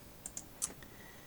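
Three light clicks of typing on a computer keyboard, sparse and fairly faint against a quiet room background.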